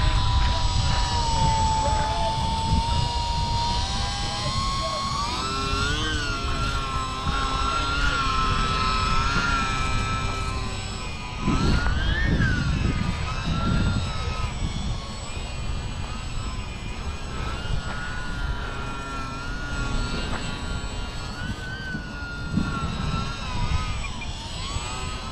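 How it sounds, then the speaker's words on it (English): A Horizon UMX Timber micro RC airplane flying in strong wind, its small electric motor whining steadily with shifting pitch as it maneuvers nearby, over loud wind buffeting throughout. "The UMX Timber. I love this plane."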